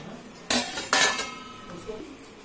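Hot dishes, pots and a kadai being lifted out of a white Bosch SMS66GW01 dishwasher, with two sharp metallic clanks close by followed by a few softer clinks.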